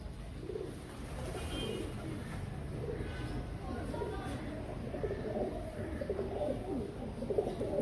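Royal Teddy pigeons coo softly in a steady, low murmur, several birds close by, with faint chirps over a continuous background hum; a voice talks intermittently beneath them.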